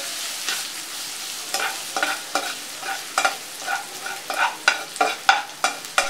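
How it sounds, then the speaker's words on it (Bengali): Chopped onion, green chili and capsicum frying in a pan for chicken chow mein, a soft steady sizzle broken by repeated close spatula scrapes and stirs that grow more frequent toward the end, with no voices. "পেঁয়াজ কুচি দিয়ে কিছুটা ভেজে নেব"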